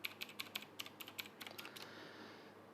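Password being typed on a computer keyboard, a quick run of about a dozen crisp, faint key clicks in an uneven rhythm that trails off into quiet, with no talking.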